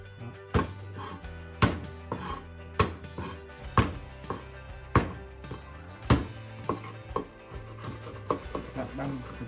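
A knife mincing garlic on a wooden cutting board, with repeated sharp chopping knocks in an irregular rhythm, close and fairly loud, with no talking.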